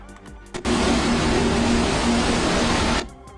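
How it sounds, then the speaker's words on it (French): A storm sound effect stands in for the sailing noise of an ocean liner like the Titanic: a loud, steady roaring wash that starts abruptly, holds for about two and a half seconds with a faint low hum, then cuts off. "C'est un bruit de tempête que j'avais trouvé qui ressemblait assez bien"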